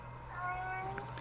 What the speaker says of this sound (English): See what I mean? Random meowing.